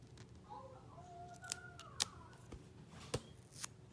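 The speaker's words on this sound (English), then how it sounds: "you could take this tape and cut it in half" Scissors snip through ostomy tape in a quiet room, with faint rustling of the tape and a few sharp, brief cuts and clicks close by.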